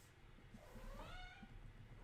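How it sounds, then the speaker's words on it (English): A cat gives a single soft, faint meow with a rising and falling pitch over quiet room noise. "You can hear my cats."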